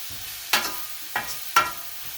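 Onions and mushrooms sizzle in butter in a pan for a Philly cheesesteak, with three sharp scraping stirs over a soft, steady fry.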